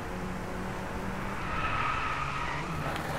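Tyres skid through a speed drift in the Driveclub racing game, a steady continuous hiss of sliding rubber over a droning car engine, fairly loud and unbroken, with no talk.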